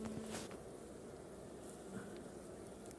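A honeybee swarm of mixed yellow and grey bees hums as a steady, dense buzz throughout, with a few brief louder passes close by.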